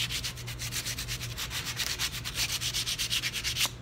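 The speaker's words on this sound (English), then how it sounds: "I got some 220 grit. Just gonna wrap it around this piece of plastic here. And it's gonna clean the inside." Steady back-and-forth rubbing strokes of 220 grit sandpaper, wrapped around a piece of plastic, as it cleans the inside of a Jeep JK front suspension part. It is close and rhythmic, with no talking.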